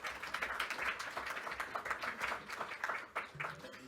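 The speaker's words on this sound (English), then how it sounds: "Applause and thanks again to Theodoros." Audience applause after a presentation on next-generation electrified vehicles: faint, scattered clapping from a small group, steady for a few seconds.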